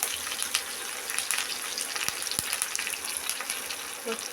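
Curry leaves sizzle steadily in hot oil while mango rice is prepared, a dense continuous crackle with a couple of sharp pops and faint clinks, close and fairly loud with no talk.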